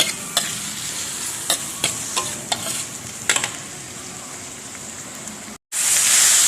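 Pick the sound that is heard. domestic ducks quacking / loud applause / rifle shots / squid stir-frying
squid stir-frying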